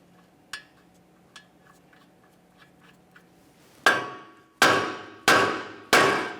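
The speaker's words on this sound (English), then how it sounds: "We'll give the knuckle a couple taps with a hammer to break it free." A few light metallic ticks, then four loud, ringing hammer strikes on a steel steering knuckle of a 1994-1997 Honda Accord, evenly spaced and close up.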